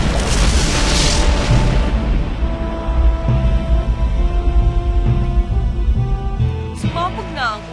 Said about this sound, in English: Sumabog na ang unang bombang itinanim ng mga terorista ang luto.